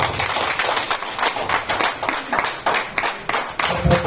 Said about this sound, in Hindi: एक बार जोरदार ताली अपने